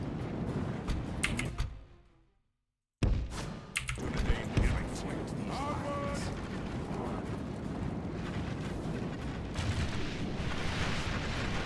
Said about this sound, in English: Group two, open fire when ready.